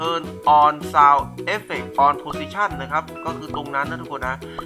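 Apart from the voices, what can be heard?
No everyday noise stands out behind the speech.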